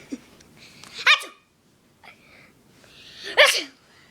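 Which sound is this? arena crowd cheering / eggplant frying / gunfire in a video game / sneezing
sneezing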